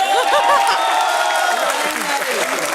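A studio audience claps in a dense, steady round of applause during a reality show episode, loud and sustained for a few seconds with a murmur of voices underneath.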